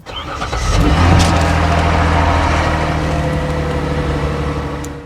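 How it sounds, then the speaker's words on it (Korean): A used Hyundai Grandeur sedan engine cranks and catches, then settles into a loud, close, steady idle with a low mechanical hum, heard alone. "시동 한번 걸어 볼게요."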